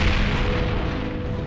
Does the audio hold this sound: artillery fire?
yes